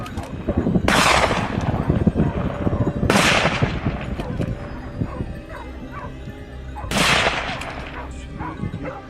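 Rifle shots fired at wild boars in a crop field, three sharp loud cracks spaced a few seconds apart over a background of barking, yipping dogs.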